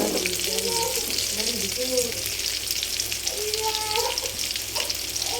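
Tomatoes fry in hot oil in a pan with onion and green chilies, a loud continuous hiss and sizzle, with a voice talking faintly underneath.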